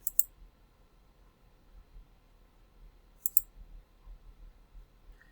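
A computer mouse clicks on a website link, with two sharp isolated clicks spaced about three seconds apart over a near-silent background, plus a faint tick at the end.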